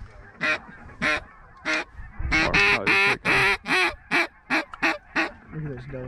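Ducks quacking during a late-season dry field hunt in Kansas, a string of loud, close, nasal calls in uneven bursts, thickening into overlapping quacks midway.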